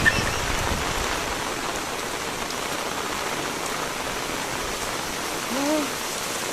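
Steady rain falling in Samar, a dense, even hiss of drops on surfaces that continues throughout with no letup, close and fairly loud.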